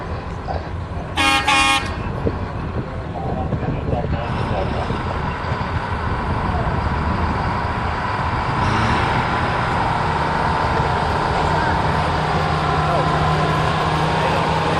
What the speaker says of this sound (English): Pulling into position now is the Plymouth 25-tonner.